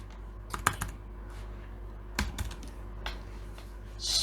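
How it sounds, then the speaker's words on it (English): Keys clatter on a computer keyboard as a command is typed, short bursts of quick presses with pauses in between, close and fairly quiet over a steady low hum. "we're going to type in our next command"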